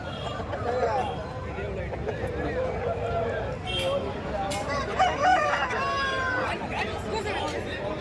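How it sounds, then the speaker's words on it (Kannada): Kundarapalli breed chickens and roosters crow and cluck over a steady market din, several overlapping crows rising from the crowd chatter, with people talking throughout. "ತುಂಬ ಕೋಳಿಗಳಾದರೆ ಬಂದಿದ್ದಾವೆ ಸ್ನೇಹಿತರೆ"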